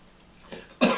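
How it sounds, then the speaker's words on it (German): A single short cough from someone with a cold, preceded by a faint throat sound, close and fairly quiet, with no speech. "Ich muss ab und zu mal husten"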